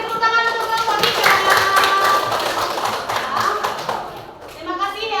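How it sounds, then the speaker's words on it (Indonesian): A school class claps for group 3 after their presentation, a loud close burst of scattered hand claps and taps mixed with children's voices and chatter. "Kita beri tepuk tangan untuk kelompok 3."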